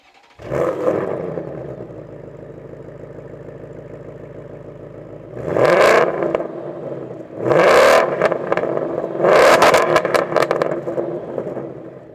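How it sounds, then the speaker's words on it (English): A Ford Mustang RTR Spec 3 with active valve exhaust idles with a deep burble, then revs sharply three times, each rev rising loudly through the exhaust before dropping back. "another thing I love about this car is our active valve exhaust. It sounds so good"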